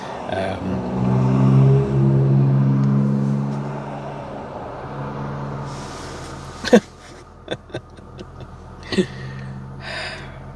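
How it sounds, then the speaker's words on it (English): Busy weekend traffic passes a roadside parking bay: a vehicle rumbles loudly close by early on, then fades, leaving steady distant road noise punctuated by a few sharp nearby clicks and knocks. "I'm parked on the side of the road in a bay on the weekend, and it's really busy with cars."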